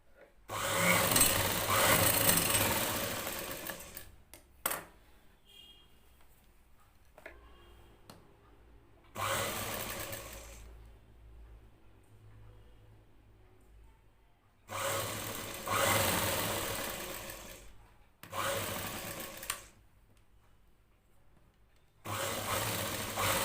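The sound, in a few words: sewing machine stitching blouse shoulder seam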